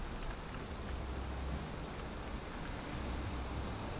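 Steady rain falling in the video game Valheim, a continuous soft broadband hiss with a low rumble underneath, moderately quiet and unbroken, with no voices over it.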